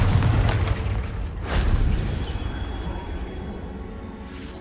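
A Confringo spell explosion in the Hogwarts Legacy video game: a loud, booming blast with a second surge of force partway through, then a long rumbling decay that fades slowly.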